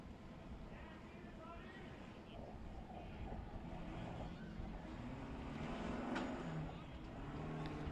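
Engine of Shear's off-road race car climbing the rocky Sledgehammer trail at King of the Hammers, a rough, fluctuating motor drone heard from a distance that swells gradually louder, with a crowd or commentary murmur beneath.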